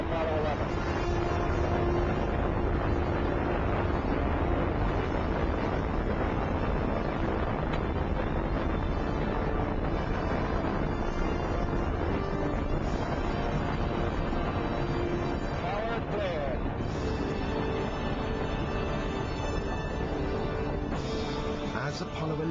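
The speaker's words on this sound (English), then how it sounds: "All engine running. Liftoff. We have a liftoff." Apollo 11 Saturn V rocket engines roaring at liftoff from the launch pad, a dense, continuous broadband rumble that holds steady and loud throughout, with faint voices underneath.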